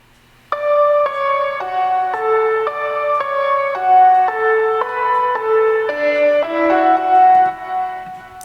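Piano sound layer in a music production, a run of about fifteen clear sustained notes forming a gentle melodic figure at an even tempo, heard alone without speech.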